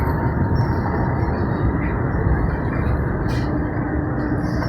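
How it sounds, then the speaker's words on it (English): A train rolls in with a steady, loud low rumble of wheels and carriages, a continuous dense roar with a brief hiss partway through. "now it looks like my train has arrived"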